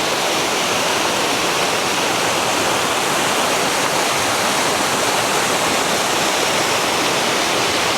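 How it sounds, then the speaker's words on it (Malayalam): A village waterfall at Pulikkathadam tumbling down in tiers, a steady full rush of falling water that holds an even, unbroken roar throughout, with no voices. "ആ വെള്ളം ഒഴുകി വരുന്നതുണ്ടോ, ഇങ്ങനെ തട്ട് തട്ടായിട്ട് താഴേക്ക് പതിക്കുവാണ്."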